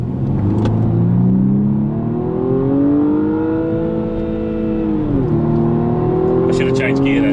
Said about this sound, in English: I just need to slow the car down and just accelerate